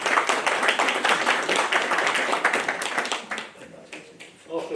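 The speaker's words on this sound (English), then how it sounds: "please don't continue to applaud" A Bradford beer and cider festival meeting audience breaks into dense, crowded applause that holds for about three seconds before thinning out, with a voice speaking as the clapping dies away.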